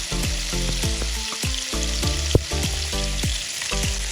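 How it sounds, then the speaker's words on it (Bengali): Chicken pieces fry in hot oil for butter chicken, a steady sizzle broken by repeated rhythmic clanks and scrapes of a spoon or spatula stirring in the pan, close and without talk. "তেলটা গরম হয়ে আসলে আমি চিকেনগুলো দিয়ে দেব এর মধ্যে।"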